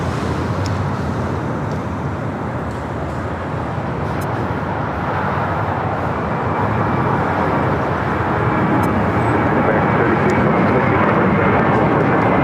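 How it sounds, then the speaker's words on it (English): A seven-year-old JetBlue Airways Airbus A321 takes off from LAX bound for Miami, its engines producing a steady, loud broadband roar that holds through the whole stretch with no talk over it. "Taking off to Miami, Florida, JetBlue Airways 2885 to 7-year-old A321."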